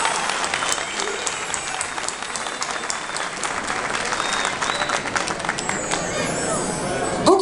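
Sustained applause and crowd noise fill a village cultural entertainment night in Aşkale, Erzurum, as the association president is welcomed onto the stage, with steady dense clapping and audience chatter throughout.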